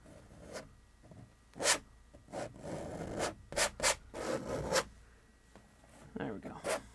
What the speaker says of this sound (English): Get in there and scrape it out.